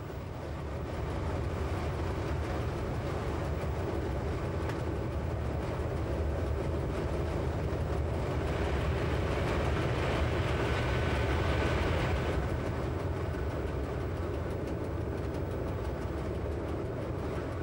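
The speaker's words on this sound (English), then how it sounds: "the BLS locomotives can easily hold their speed, climbing or descending" A BLS locomotive hauls a train on the Swiss Lötschberg mountain line, holding speed on the steep gradient: a steady, loud rumble of wheels and rail noise fills the whole stretch, swelling slightly midway, with no voices.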